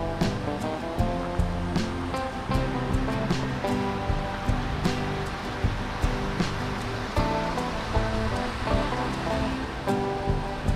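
Screw Auger Falls pours over rocks, a steady rushing wash of water close by with rolling surges and no voices.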